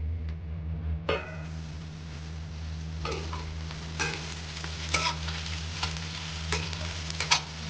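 Potatoes for kanda poha cook in a covered pan with a steady, close frying hiss, broken by a few light ticks and scrapes and no talking.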